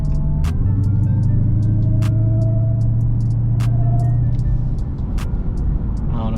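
A 2020 supercharged car with an LMI Legmaker intake idles around 1,500 RPM inside the cabin, a loud steady engine drone with a thin sustained whine layered on top and occasional brief clicks.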